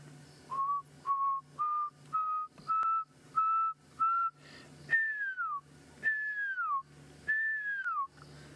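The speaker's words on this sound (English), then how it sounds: "I can hear a pearl-spotted owl in the distance. It's quite far. I don't think you'd be able to hear it. It's got a wonderful whistling call." A pearl-spotted owl, a tiny owlet, calls at sunset with a series of clear whistled notes, first short level ones rising in steady rhythm, then longer notes that slide downward, fairly faint against a quiet background.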